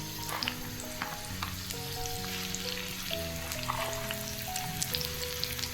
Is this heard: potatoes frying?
yes